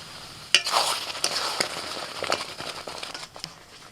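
Raw mango jelly cooked with roasted spices is stirred in a pan as it thickens, giving faint scraping and soft sticky clicks with a light sizzle in irregular strokes.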